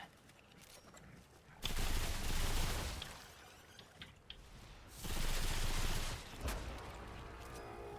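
Coach gun fired in a video game: two dense, loud roaring blasts of gunfire, each lasting about a second, separated by quieter stretches with scattered sharp cracks.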